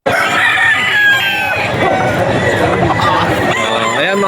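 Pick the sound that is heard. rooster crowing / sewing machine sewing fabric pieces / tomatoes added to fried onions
rooster crowing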